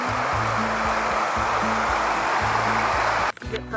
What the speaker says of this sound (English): Some waterfalls.